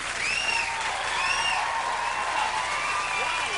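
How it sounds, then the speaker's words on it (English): Studio audience of a 1989 late-night talk show cheering and applauding a guest's entrance, continuous dense clapping with whoops and whistles rising above it. "The crowd goes crazy."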